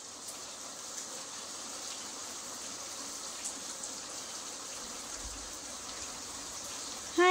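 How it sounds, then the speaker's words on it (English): Rain falls softly and steadily outdoors, a faint, even patter and hiss that continues throughout with no other prominent sounds. "And it's raining."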